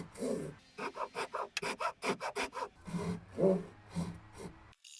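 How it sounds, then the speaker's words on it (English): A hand saw cuts across the bottom edge of a wooden gate insert. About a dozen quick, even rasping strokes are heard close up, then a few slower, heavier pulls before the cut ends. "Then I clamped the insert to line up with that and sawed the bottom edge."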